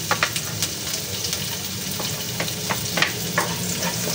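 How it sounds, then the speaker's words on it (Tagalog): Garlic sautéing in hot frying oil in a pan, a steady close sizzle with scattered pops and crackles and a few stirring scrapes throughout. "Gisa na po natin yung ating bawang."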